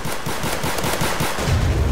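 Rapid automatic gunfire from a gun in a Roblox first-person shooter, a loud continuous burst of fast repeated shots filling the whole moment.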